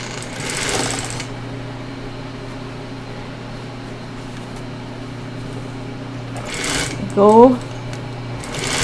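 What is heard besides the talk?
Singer 281-1 industrial sewing machine sewing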